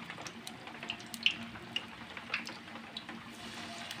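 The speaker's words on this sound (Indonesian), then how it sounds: "Oke, ini pisangnya kita goreng dulu ya" Kepok bananas frying in hot oil give a soft, continuous sizzle with scattered small crackles and pops, faint and close, without talk.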